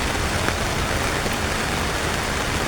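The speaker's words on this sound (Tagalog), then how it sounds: "Grabe nga ulan." Heavy rain pours steadily, a dense, constant hiss with no breaks and no voices.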